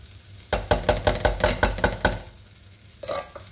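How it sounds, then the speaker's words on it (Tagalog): Spicy chicken with spices being stirred in a pan for fried rice: a run of about ten loud, rhythmic scraping strokes close by, then a pause before one more scrape. "Ihalo-haluin ko lang ng mag-combine lahat at manuot yung kanyang spices."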